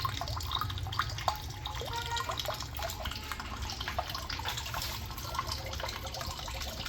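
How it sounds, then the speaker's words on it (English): Water draining back through a small balcony aquaponics system, a steady close trickle and splash with scattered drips running continuously without voices. "you can observe that the water has already started coming back."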